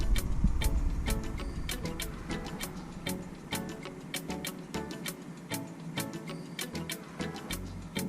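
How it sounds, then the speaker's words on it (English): Electric fuel pump on an MGB ticking rapidly and steadily with a regular clicking rhythm over a low mechanical hum, close by and fairly quiet, no speech. "Pump's running."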